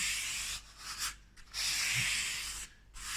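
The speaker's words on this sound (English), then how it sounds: "Just give it a rub and you're going to be surprised by how much comes off." A cloth rubs back and forth along the metal rails of a Tomy AFX slot car track to clean it, giving close, scratchy swishing strokes in bursts separated by brief pauses.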